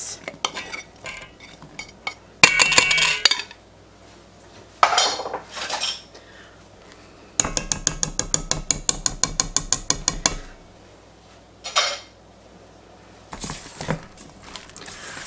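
A utensil scrapes and clatters against a bowl as apples are stirred into batter for an apple pudding, coming in irregular bursts with one fast rhythmic run of stirring taps, close and clear with no talking.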